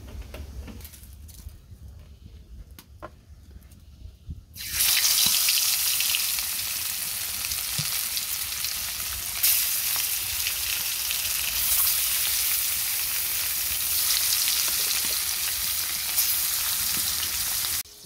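Oil sizzles loudly in a frying pan with turmeric- and chili-rubbed fish, the hiss bursting on suddenly after a quieter stretch and holding steady to the end.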